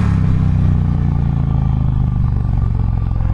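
An Indian Challenger motorcycle engine thrums loudly at part throttle on a test ride, a steady close-up rumble with slight rises in revs and no talk over it.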